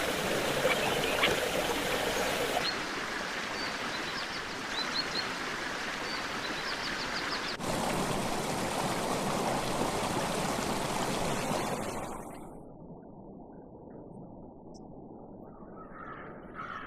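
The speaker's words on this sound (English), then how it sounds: "the numerous springs of En-Gedi provide the only source of fresh water for miles" Fresh water flowing from the springs of En-Gedi, a desert oasis, as a steady broadband rush that continues for about twelve seconds, then drops to a quieter trickle with faint bird calls.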